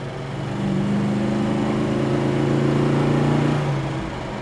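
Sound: 1970 Dodge Dart Swinger engine and exhaust rumble

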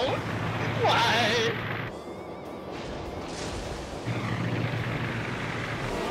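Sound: aircraft flying overhead in World of Warships video game

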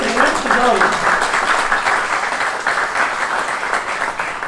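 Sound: warm applause at a Silver Alert event

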